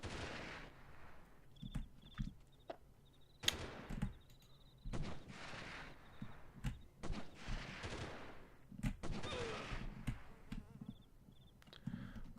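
Gunfire in the 1998 shooter game Delta Force: a string of fairly distant, muffled shots and short bursts recurring irregularly over ambient battlefield noise, with faint electronic beeps in between.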